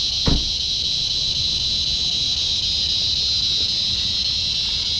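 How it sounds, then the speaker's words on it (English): Loud cicadas in a tree above a camper at a Florida-style RV resort keep up a continuous high, shrill buzz that stays steady throughout, with a brief low thump near the start. "Listen to those cicadas."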